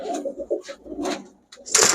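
Giasuli pigeons, including a male, coo up close in short bursts of soft rolling calls with brief pauses, ending in a louder, brighter burst of sound.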